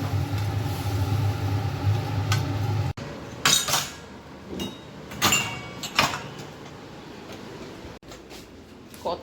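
Dishes and metal utensils clink and clatter in a home kitchen after a fish curry has been cooked, with a low steady hum at first, then a series of sharp, irregular knocks and scrapes close by.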